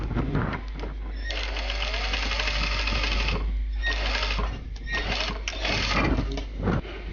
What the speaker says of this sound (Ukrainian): І так само робимо строчку.